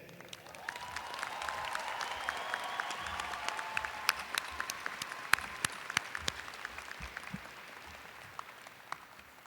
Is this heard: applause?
yes